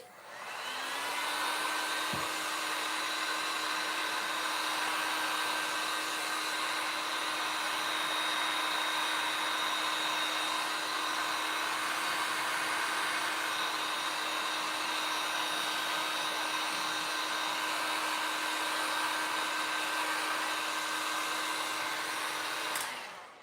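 A blow dryer drying a craft sheet for a sweater-weather pumpkin project runs steadily and fairly loudly for about twenty seconds, a smooth whining hum that starts up and cuts off at the end, with no talking.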